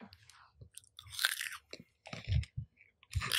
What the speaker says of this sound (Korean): We're gonna end the show by eating a piece of garlic together.